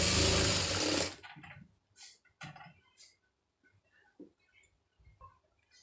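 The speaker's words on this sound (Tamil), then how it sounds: "இப்போ நமக்கு வந்து அந்த 1/4 இன்ச்சு அளவுக்கு வந்து தையல் போட்டுடலாம்." A sewing machine runs a quarter-inch seam along a blouse front neckline, opening with a loud second-long burst of dense stitching, then falling to scattered short fabric rustles, clicks and handling noises.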